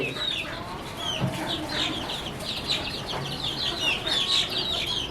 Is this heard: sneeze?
no